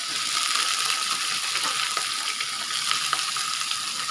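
Vegetables sizzle in hot oil with mustard seeds, cumin and a pinch of turmeric in a home kitchen: a loud, continuous, crackling hiss with scattered small pops and ticks throughout.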